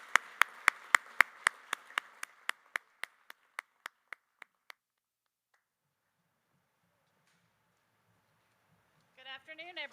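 Applause greets an award presenter at a Startup Day 2022 event: a run of crisp, evenly spaced claps gradually fades out, followed by several seconds of near silence and then a brief voice at the end.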